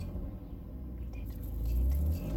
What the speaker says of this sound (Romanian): Accelerează ca să ambreze un pic motorul.